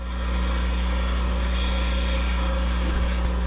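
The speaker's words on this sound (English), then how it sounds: "I just grind that edge down till it's good and sharp" A bench grinder holds a constant motor hum while a teardrop scraper's edge is ground against the wheel on the tool rest, producing a loud, continuous rasping hiss close by.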